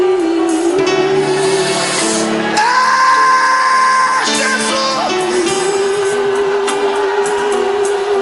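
A church congregation shouts, whoops and yells together in a loud sustained burst, with sung and held tones running through the noise of the crowd.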